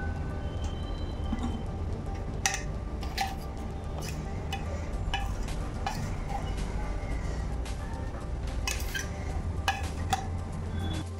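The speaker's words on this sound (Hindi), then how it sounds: "अब इसमें हम डालेंगे दाल" Lentils (dal) tipped into a pan with roasted gram flour and stirred, giving a steady hiss of frying under repeated scraping and tapping clicks of a spoon against the metal pan.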